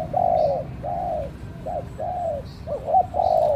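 A chân rồng bird calling outdoors with soft dove-like coos, several short mellow notes repeated in irregular bursts over about three and a half seconds, moderately near above a low rumbling background.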